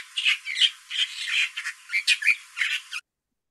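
Song of a Marquesas reed warbler from the northern Marquesas: a run of harsh, chattering, squawky phrases repeated in quick succession for about three seconds, fairly close and clear with no talk.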